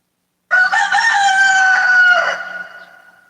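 A rooster lets out a single loud, close crow that begins after a short silence, holds for nearly two seconds and then trails away.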